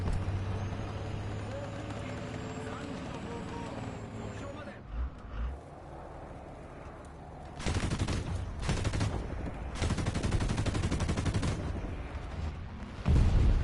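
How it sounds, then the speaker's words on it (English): Machine gun fire in the War Thunder tank game: loud, dense bursts of rattling gunfire in several long stretches over a low engine rumble, with a quieter lull between them. "I swear, I hear a machine gun somewhere over here."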